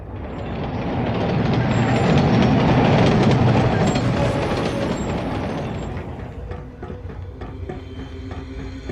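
A short single-car train in the video game Carrier Command: Gaia Mission rolls past on a loop, a steady rumbling swell that builds to a loud peak mid-way, then eases off as faint wheel clatter continues.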